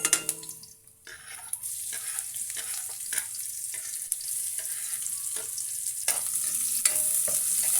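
Garlic and onion sauté in a pan for chicken curry, a steady high sizzle broken by brief scraping stirs and a few clinks, close and fairly loud with no talking.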